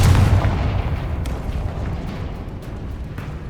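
The Confringo explosive spell cast in Hogwarts Legacy, a single loud booming blast at the start that rumbles and slowly fades, with a few faint crackles in the tail.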